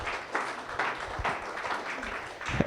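A church congregation claps during a sermon, a moderately faint wash of hand clapping that swells and eases in uneven bursts, with no speech on top.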